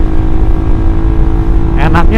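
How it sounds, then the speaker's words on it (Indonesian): A Suzuki GSX R150 motorcycle fitted with an R9 Mugello racing exhaust drones loud and steady while riding, and a voice briefly starts speaking near the end. "gue bener-bener pengen menikmati suara knalpot ini"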